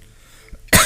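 One sharp, close cough bursts out at the very end after near silence.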